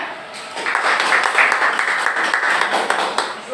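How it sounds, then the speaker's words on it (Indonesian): A classroom group claps hands in applause, a dense, steady burst of many palms starting after a brief pause and sustained for a few seconds, fairly close. "tepuk tangannya"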